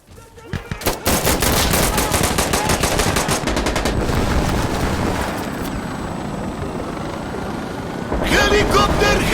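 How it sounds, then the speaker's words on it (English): Helicopter rotors thrum steadily in the video game Insurgency: Sandstorm while bursts of machine-gun and rifle fire crackle close by, with heavier volleys at the start and near the end. "Helicopter, helicopter!"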